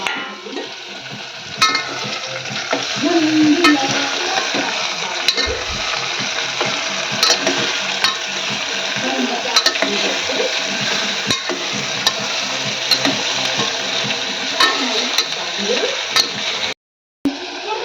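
Vegetables such as capsicum and carrot frying in a pan for veg pulao, with a steady close sizzle and repeated scraping stirs running throughout, a brief pause near the end.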